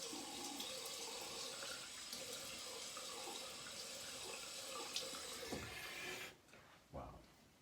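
Cold water runs steadily from a bathroom tap as a broadband rush that holds constant, then cuts off near the end with a couple of brief splashes after.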